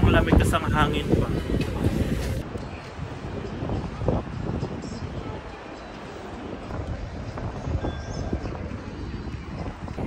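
Cold wind gusting outdoors at Sakuragi buffets the microphone in a steady, rough low rumble that lasts the whole stretch, with people talking over it.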